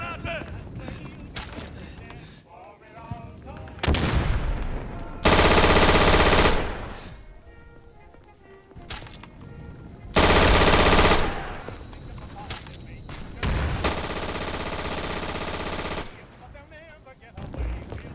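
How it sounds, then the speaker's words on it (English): Bursts of MG42 machine-gun fire in the World War II shooter Day of Infamy, with three long sustained loud volleys broken by quieter stretches of game sound and chatter. "That doesn't mean that you can't get any good kills with the MG42."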